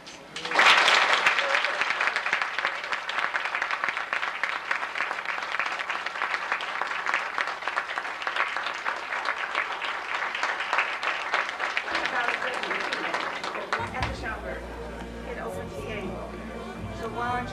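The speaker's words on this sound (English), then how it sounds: "Could you join me rather in awarding her another round of applause?" An audience at an award luncheon honoring Pearl Primus at Howard University breaks into loud, sustained applause lasting about twelve seconds, then fades to murmuring chatter and a few voices.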